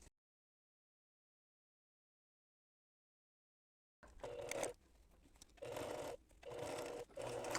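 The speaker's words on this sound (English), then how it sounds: "And just sew around." An embroidery sewing machine stitches around an in-the-hoop appliqué bib, starting after a few seconds of silence with short close bursts of rapid stitching separated by brief pauses.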